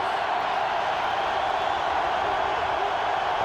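Stadium crowd noise at a Pittsburgh Steelers AFC Championship football game against the Denver Broncos, a steady, dense roar of a large crowd that holds at an even loudness without distinct cheers.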